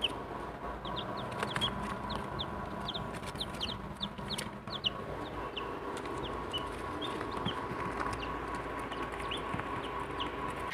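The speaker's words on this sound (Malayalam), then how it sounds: "നമ്മൾ നമ്മുടെ കോഴിക്കുഞ്ഞുങ്ങളെല്ലാം ഇട്ടിട്ടുണ്ട്" Eight newly hatched chicks in a home brooder peep in rapid, scattered high chirps, joined by occasional clucking from grown chickens, all fairly quiet over low background noise.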